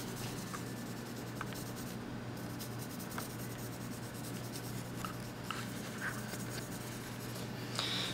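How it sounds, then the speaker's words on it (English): Graphite pencil lead rubbed and scratched onto ceramic rings, a faint, continuous dry scraping with scattered light ticks, heard close up. "I take these ceramic rings and I coat them with just graphite pencil lead"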